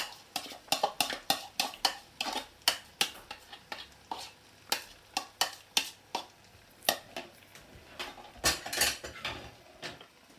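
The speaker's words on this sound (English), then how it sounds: "Add the tomatoes and stir it all in together." A utensil stirs tomatoes into sausages and beans inside a Remoska Tria cooker, making a run of sharp clinks and scrapes in an irregular rhythm, close and fairly quiet, with no talking.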